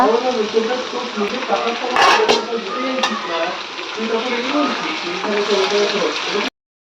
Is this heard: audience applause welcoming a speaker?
no